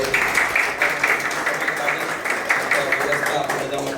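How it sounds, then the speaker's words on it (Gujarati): An audience claps steadily for the managing team in a community hall at the Brent Indian Association in Wembley, London, a dense, continuous applause mixed with voices. "ધર્મેન્દ્રભાઈ અને એમની આખી પૂરી જે મેનેજિંગ ટીમ છે એની માટે એકવાર જોરદાર તાળી"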